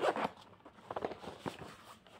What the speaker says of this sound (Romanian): Atâta este fermoarul.